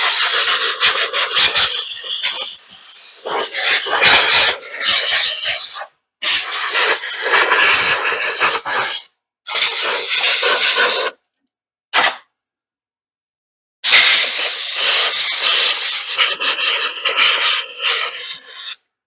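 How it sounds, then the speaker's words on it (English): Compressed air blasts and sprays clean an original Briggs & Stratton carburetor, coming as loud, close hissing bursts of several seconds each, separated by short silent gaps. "I'll go ahead and blow some of that off, and then I'll spray it down a little bit."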